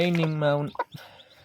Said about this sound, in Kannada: ನೋಡಿ ಇದೇ ಇಟ್ಟಿಗಿಟ್ಟ ಕೋಳಿ